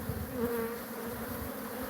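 Dense swarm of African honey bees at a hive box, a steady close buzzing drone filling the air continuously with no talk.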